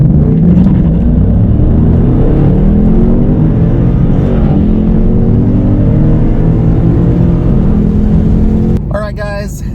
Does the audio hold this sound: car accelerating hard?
yes